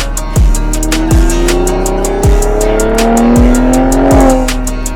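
A 2025 twin-turbo Ford Raptor VelociRaptor 600 truck revs loudly and close, its engine pitch climbing and dropping through several surges, with sharp repeated pops and bursts alongside and no talking.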